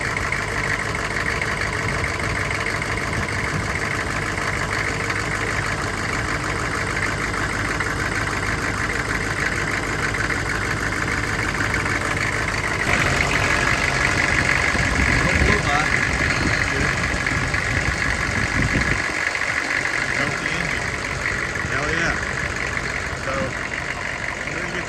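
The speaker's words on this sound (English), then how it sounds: "It's running a lot smoother, so it's probably misfiring." A Chevy C3500 with a 6.5 turbo diesel runs continuously with a steady, rough knocking idle, loud and close, with a slight change in tone partway through.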